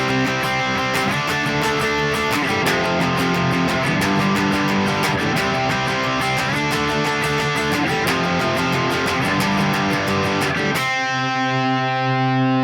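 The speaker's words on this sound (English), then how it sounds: "It's just power chords, straight 8th notes with the right hand" Distorted electric guitar chugs power chords in a steady straight-eighth rhythm, the rhythm part of a song, loud and driving, ending on a sustained ringing chord.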